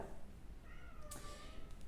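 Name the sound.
cat meowing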